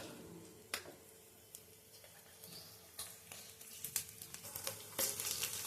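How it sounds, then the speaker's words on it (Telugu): Garlic cloves dropped into hot oil for a tomato chutney, giving a faint, low sizzle with scattered crackles and pops that grow busier toward the end, close by and without talk. "ఆయిల్ వేడైన తర్వాత మనం ముందుగా తీసుకున్నటువంటి వెల్లుల్లిని వేసుకోవాలి"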